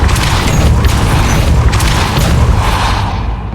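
A Depulso force spell cast in Hogwarts Legacy, a loud, heavy booming blast with a rumbling, whooshing body that fades slightly at the end.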